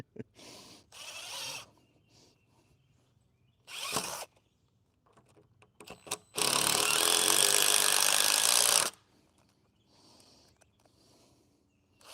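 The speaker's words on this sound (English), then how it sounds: "we're done with the drill." Power drill drives screws into the wood of a DIY raised garden bed, several short whirring bursts separated by pauses, then one long sustained run of the motor, close and loud.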